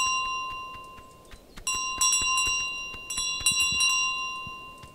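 Bright golden bell in Untitled Goose Game jingling repeatedly, clusters of high metallic rings in an irregular rhythm, close and clear with no talk.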